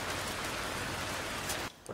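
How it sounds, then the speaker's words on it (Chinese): Steady rain falls as a dense, even hiss for under two seconds before cutting off abruptly. "今天下雨也没事"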